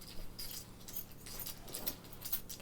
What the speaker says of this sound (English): I am rattling some keys I have in my hand right here